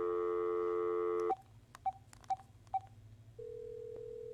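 Telephone dialing in the video game Dark Fracture: a held dial tone, then four short, evenly spaced button beeps, followed by a steady ringing tone, clear and alone.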